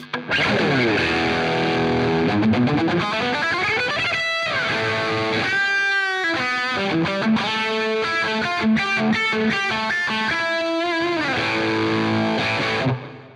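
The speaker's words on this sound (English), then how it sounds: "it is just a great distortion drive sound" A heavily overdriven electric guitar through a Marshall Guv'nor drive pedal rings out in sustained, buzzing chords and bends, loud and continuous with no one speaking.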